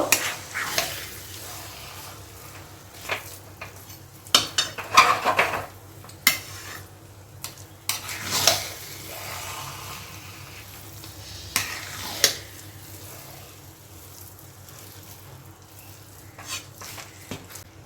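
A spoon scrapes and clinks against a pan while stirring a dalia (broken wheat) mixture cooked without oil on low heat, irregular knocks and scrapes over a soft, quiet sizzle.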